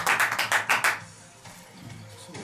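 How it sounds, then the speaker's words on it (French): Hands clap about six times in a quick, loud, close burst, then stop and give way to quiet room noise with faint background sounds. "je t'applaudis bien fort"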